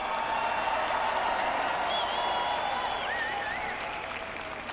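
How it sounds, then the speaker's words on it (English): An audience at a ceremony honoring military families applauds, a steady wash of clapping that stays fairly faint and distant and fades slightly toward the end, with a few whistles. "Can you please join me in a round of applause for our military families?"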